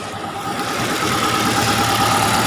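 Up close, a Chery QQ 311 engine misfires as it runs, producing a steady, loud rumbling idle with an uneven, stumbling pulse and a buzzing hum, and no talk.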